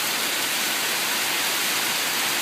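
A rain shower falls outdoors in Port Credit, making a constant dense hiss of drops with no distinct individual sounds and no voices.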